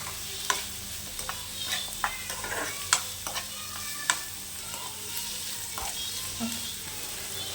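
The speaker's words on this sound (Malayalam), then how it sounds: "തക്കാളിയും ആഡ് ചെയ്ത് കൊടുക്കാം. ജസ്റ്റ് ഒന്ന് ഇളക്കി കൊടുക്കാം." Tomatoes being stirred into vegetables frying in a pan for fried rice, a steady soft sizzle broken by irregular scraping and clinking strokes of the spoon, close and alone with no voices.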